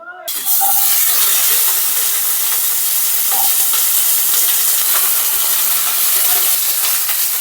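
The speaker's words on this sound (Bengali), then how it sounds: "সর্ষের তেলে ঢ্যাঁড়স ভাজবো দিয়ে দিচ্ছি সর্ষের তেল" Whole okra sizzles loudly in hot mustard oil in a wok, a strong, steady hiss that starts abruptly and carries on, with faint stirring clicks.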